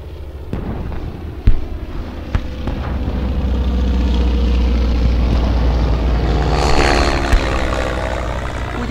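A Japanese military propeller aircraft drones steadily as it flies away, a loud continuous engine roar with a few sharp bangs early on, dramatized as a wartime film sound effect.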